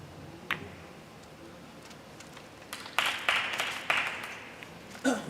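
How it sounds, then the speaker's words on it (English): Applause from the audience at a 2019 World Pool Masters last-16 match between Ko Pin Yi and Alex Pagulayan. The clapping comes in short bursts after a quiet start, with a few isolated claps beforehand. "applause."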